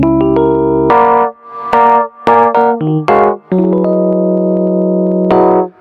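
A 70s-style electric piano voice on a Korg KingKORG, driven through its tube stage for a gritty edge, plays short struck chords and single notes with quick decays, then holds a final sustained chord, close and alone.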